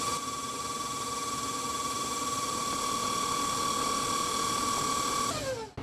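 Stand mixer with paddle beating keto Italian meringue buttercream, a steady high motor whine running close and constant for several seconds before winding down at the end, with no voices.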